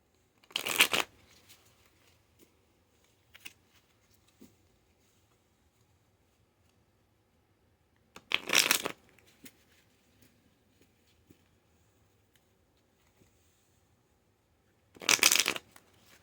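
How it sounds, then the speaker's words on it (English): A deck of cards is shuffled in three short, crisp riffle bursts spaced several seconds apart, close up in an otherwise quiet room. "So let me shuffle this deck real quick."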